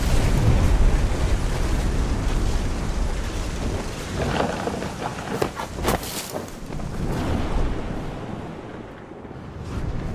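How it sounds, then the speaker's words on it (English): Thunderstorm with rain in the video game What Remains of Edith Finch: steady heavy rainfall hisses throughout while deep rolling thunder rumbles loudly and close, swelling in the middle before easing back. "The thunder sounded much too close and full of angry power"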